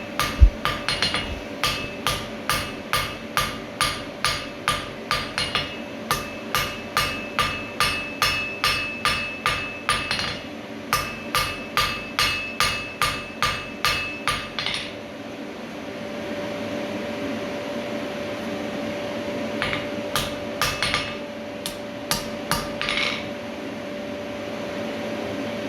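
A blacksmith forges a square taper on an anvil with a hammer, sending out a long, steady series of sharp ringing blows at an even tempo. After a pause, a few scattered strikes follow over a low background hum.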